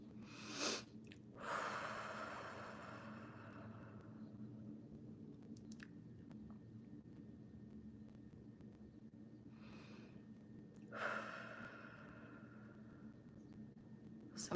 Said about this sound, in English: Take your 2 deep inhales and exhales